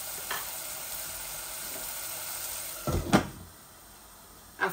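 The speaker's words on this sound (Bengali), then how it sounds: "আমার মশলাগুলা ভাজা ভাজা হয়ে যায়" Spices fry in a pan for a Bengali fish curry, a steady sizzle broken by a couple of sharp clattering knocks of utensil or cookware near the end; no one speaks.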